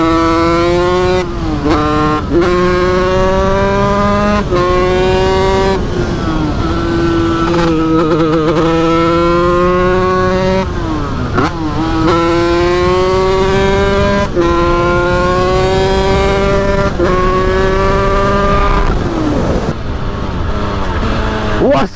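A motorcycle engine revs hard again and again, each rise in pitch climbing and dropping in a steady series of loud, close throttle bursts that carry through the whole stretch.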